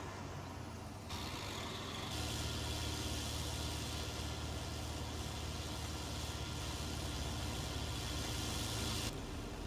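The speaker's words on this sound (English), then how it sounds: "What a great combine that is, look at that." A combine harvester in Farming Simulator 19 runs with a steady low engine drone and a broad mechanical whir, continuous and fairly even, with no voices over it.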